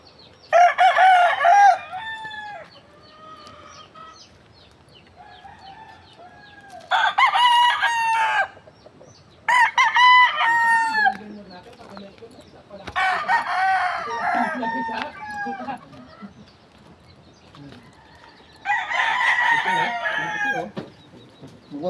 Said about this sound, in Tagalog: may manok po sila doon